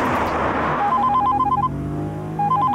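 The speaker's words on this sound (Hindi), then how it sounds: "वाइफ का फोन।" Phone ringing inside a car: a short electronic ringtone in repeated bright beeping bursts, heard over low road and engine rumble.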